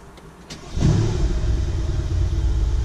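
A Mercedes-AMG C 63 S starts with the driver's door open: brief quiet, then at about 0.8 s the engine fires into a loud, deep, steady idle rumble that carries on to the end, close by.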